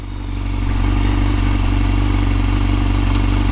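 A Honda CBR1000RR-R Fireblade SP idles with a steady, loud mechanical engine drone while it is eased into a parking spot. The sound rises over the first half second, then holds constant.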